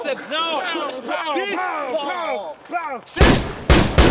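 Two sharp pistol-like gunshot bursts ring out loud and close near the end, following a stretch of lively French talk between men.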